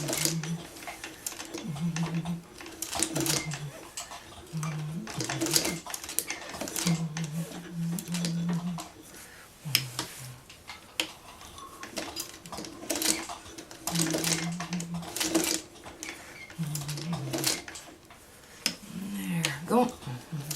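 A sewing machine stitches applique on a churn dash quilt block in short bursts of rapid mechanical whirring and clicking, stopping and starting, with a person talking quietly between bursts.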